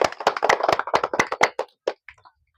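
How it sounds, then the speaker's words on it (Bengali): A group of people claps briskly for a player in a bottle-matching game, a dense run of claps that tapers off to a few last isolated claps. "হাততালি সবাই।"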